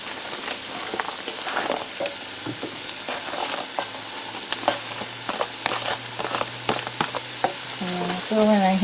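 Chopped onion sizzles and fries in a soup pot for chicken vegetable soup, a steady close crackle with scattered pops and stirring scrapes, and no one talking.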